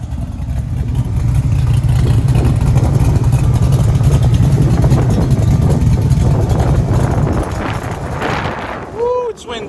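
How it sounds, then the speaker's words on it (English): Exhaust of a 1968 Camaro RS SS rumbling loudly and steadily close to the microphone, a deep throbbing drone that fades near the end, with buffeting wind over it. "Let's listen to the exhaust."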